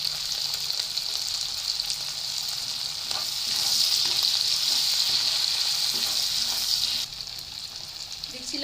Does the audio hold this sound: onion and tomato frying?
yes